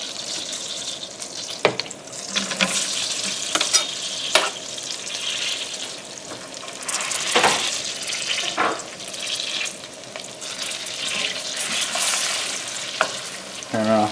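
Shallots and garlic frying in a pan, a steady close sizzle with a few sharp clinks and stirring scrapes scattered through it, and no talking.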